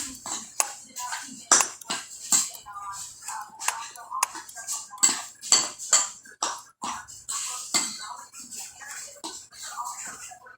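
A utensil stirs breakfast pie filling in a bowl, making a run of close, irregular scraping and clinking strokes with short gaps, and soft talk now and then.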